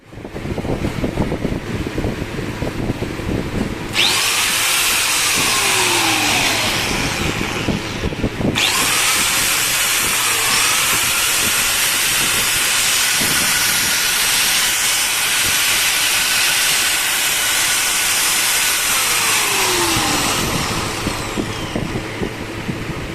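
A 5-inch short-body hand angle grinder with a motor whine and harsh hiss runs loudly for a long stretch with rising and falling pitch sweeps.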